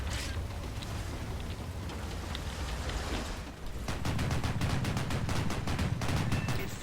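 A Flakpanzer in War Thunder fires a rapid stream of tank gunfire, with sharp repeated bursts of automatic shots at a fast steady rhythm over a continuous background noise, starting partway in and running to the end.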